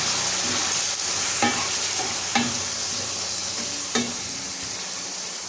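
Liver, washed with salt and turmeric, stir-fried in a pan with sautéed onion and tomato: a steady loud sizzle runs throughout, with a few sharp spatula scrapes and clinks against the pan.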